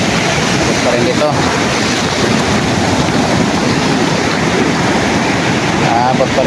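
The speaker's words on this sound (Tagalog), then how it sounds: "Dahil sa sobrang laki ng alon mga katropa, abot pa rin ang tubig dito." Large sea waves surging onto the shore during a typhoon, a loud, constant roar of surf and wind with no clear breaks, filling the whole scene.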